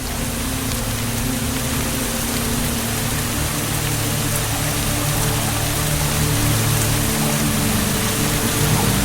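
Heavy rain pouring down over koala habitat in southeast Queensland during the wet season, a steady, dense wash of falling water that stays loud and unbroken throughout, with no voices.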